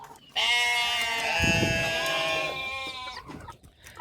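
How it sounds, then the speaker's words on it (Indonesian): A goat or sheep in a pen gives one long, loud, wavering bleat lasting nearly three seconds, close by, with faint rustling and animal noises after it. "Saya mau ngasih makan kambing domba-domba saya."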